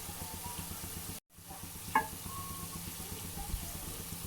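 Onion pakoda batter drops into hot oil on a low flame, giving a steady close sizzle and bubbling with one brief pause and a small splash as the batter goes in.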